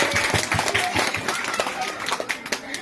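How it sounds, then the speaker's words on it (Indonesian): Congregation at a Sunday school Christmas celebration breaking into applause, a loud burst of clapping with some individual claps standing out, voices mixed in. "Tepuk tangan untuk kita semua"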